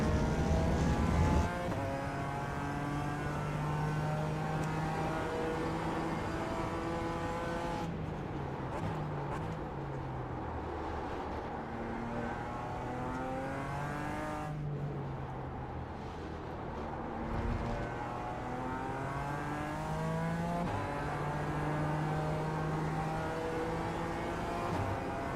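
A GT4 race car in iRacing at Indianapolis drones steadily on throttle, its engine note climbing and dropping through shifts in a continuous, moderately loud run with no talk.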